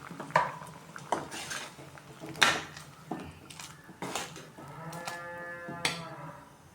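Ground masala paste being stirred into a boiling kara kuzhambu curry in a pot, with several distinct clanks of a metal ladle against the vessel and scraping strokes between them.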